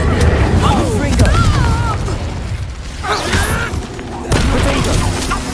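Fire and blast spells from the Hogwarts Legacy video game boom and crackle loudly, with a sudden heavy burst near the end, mixed with shouted voices and whooshing combat effects.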